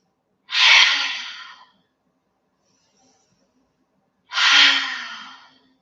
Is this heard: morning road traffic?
no